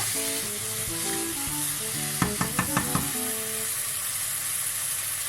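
Bitter melon and prawn sambal stirred in a pan, a steady sizzle with a quick run of five sharp scraping clinks from the spatula midway, no voices.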